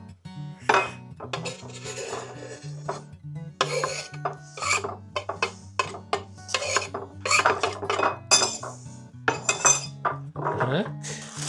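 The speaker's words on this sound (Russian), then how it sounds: "Сейчас я порежу укроп, тоже все положу в пиалочку" Knife chopping dill on a board for chicken, cabbage and tomato soup, a fairly quick run of rasping, tapping cuts with light kitchen clinks, close and moderately loud, with a steady low hum underneath.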